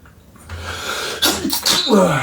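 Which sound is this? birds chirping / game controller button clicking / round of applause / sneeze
sneeze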